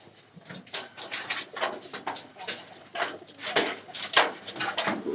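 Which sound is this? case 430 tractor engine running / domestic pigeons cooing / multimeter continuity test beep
domestic pigeons cooing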